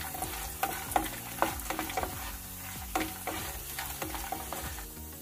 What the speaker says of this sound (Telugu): జీడిపప్పు కూడా కాసేపు వేగనిద్దాం.